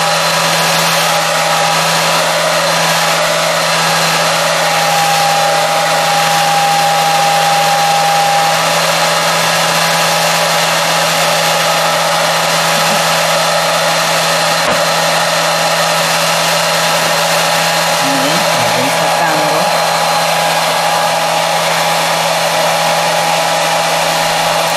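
A hair dryer blows steadily and loudly at close range, drying textured paste on a small MDF craft box, an unbroken whirring hum throughout.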